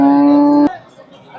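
A cow at a cattle market in Namangan gives one loud, close, drawn-out moo that cuts off abruptly, leaving faint background chatter and market noise.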